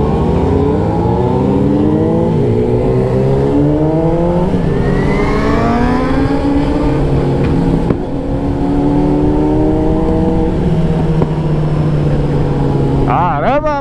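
Yamaha Fazer 600 and Honda CBR600F sport motorcycles revving loudly at a large group ride, engine pitch sweeping up and down in repeated surges, close and overlapping, with a voice faintly beneath.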